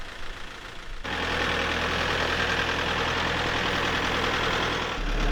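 A tractor engine with a front end loader and pallet forks starts up and runs loudly at a steady, close, throbbing drone, with no talking over it.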